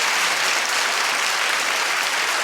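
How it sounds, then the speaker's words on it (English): A studio audience at a daytime talk show breaks into loud, dense applause, a continuous wash of clapping that holds steady from start to finish without voices over it. "clap if you'd be pissed."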